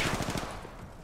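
A short, fast burst of gunfire in the video game Apex Legends, close and rapid at first, then fading into a muffled rumble.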